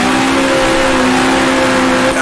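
A 1966 Formula 1 race car in the Grand Prix Legends racing game at the Belgian Grand Prix, its engine held at a loud, steady high-rpm whine near 7,000 rpm, close and sustained.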